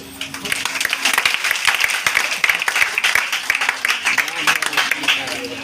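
A room full of people claps in a dense, continuous round of applause, with some voices mixed in.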